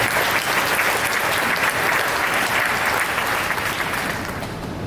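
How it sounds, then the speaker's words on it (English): A crowd at Peoria's State of the City event gives the mayor a sustained round of dense applause, loud and even throughout before tapering slightly at the end. "I'd like to applaud again for Mayor Ali for the State of the City update"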